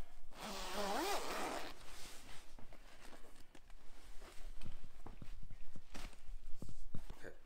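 A zipper is drawn open on the hood of a STRADA stroller, one long zip near the start, followed by softer handling rustles and small clicks of fabric and fittings.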